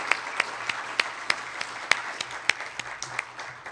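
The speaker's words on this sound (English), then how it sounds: "Another round of applause for the great presentation." Sparse applause from a conference audience after a presentation, with a dozen or so distinct, fairly loud claps spaced irregularly, like a few people clapping slowly in a hall.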